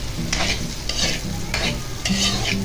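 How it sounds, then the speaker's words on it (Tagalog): Sautéed onion, bell pepper and carrots are stirred in a hot pan, the utensil scraping in four quick bursts over a constant close sizzle, with no voices. "So, halu-haluin lang natin para hindi siya masunog."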